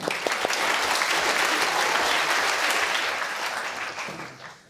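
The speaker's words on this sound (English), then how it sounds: "Big round of applause." An audience at a lecture on food breaks into a big round of applause, loud and full for a few seconds before tapering off toward the end.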